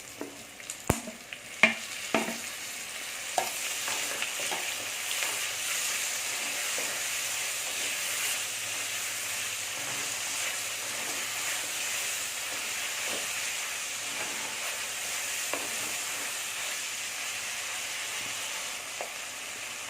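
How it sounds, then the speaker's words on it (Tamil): Chopped onions and tomatoes sauté in a pan for drumstick kootu, a Tamil dish, with a steady close sizzle and hiss throughout and several sharp clatters of a spoon stirring near the start. "கொஞ்சமாக உப்பு போட்டு வதக்கிடலாம்"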